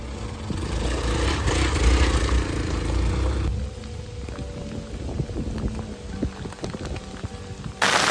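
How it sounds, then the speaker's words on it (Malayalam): Light rain patters steadily on a mountain road during an off-road motorcycle ride toward Urumbikkara, a dense hiss that thins after a few seconds into scattered drops with faint engine rumble beneath. "മുകളിലേക്ക് വരുംതോറും കാലാവസ്ഥയൊക്കെ മാറി ചെറിയ രീതിയിൽ മഴയൊക്കെ തുടങ്ങിയിട്ടുണ്ട്"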